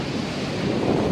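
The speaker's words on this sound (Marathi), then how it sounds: "केवढ्या मोठ्या मोठ्या लाटा आहेत तुम्ही बघू शकता." Ocean waves on a beach beside an ocean-view beach house give a steady, loud rushing roar, with wind buffeting the microphone throughout the short stretch.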